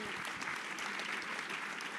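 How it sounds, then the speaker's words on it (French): A conference audience applauds to welcome Michèle Alliot-Marie at a talk on European defence. The clapping is thick and sustained, a steady crowd patter heard from within the room. "Je vous demande de faire un tonnerre d'applaudissements pour Madame Alliot-Marie"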